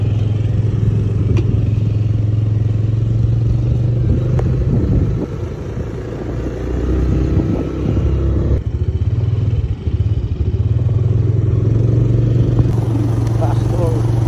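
A motorcycle engine idles and rumbles nearby in a steady, loud low drone, with occasional clatter and shifts in level, as people talk over it.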